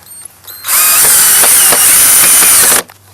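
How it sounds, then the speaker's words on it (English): A power drill drives a 3-inch deck screw into the end of a wooden crosspiece for a raised garden bed, giving a loud, steady whirring burst of about two seconds that stops abruptly, with no talk over it. "I'm going to take a 3-inch deck screw, and we're going to drill right in from the end into our"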